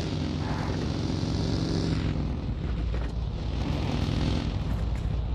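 An airplane flies overhead in the BGMI video game, a loud continuous propeller drone that holds steady with a slight swell and fade.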